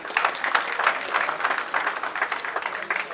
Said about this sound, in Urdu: تمام لوگوں کے لیے آپ بھرپور تالیاں بجائیں